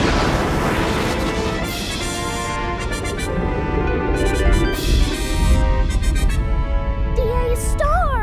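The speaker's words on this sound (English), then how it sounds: "Our big, beautiful star just exploded into smithereens!" A cartoon star bursts in a long, loud explosion after a countdown, a dense booming roar with crashing debris layered over musical tones, ending in warbling sweeps.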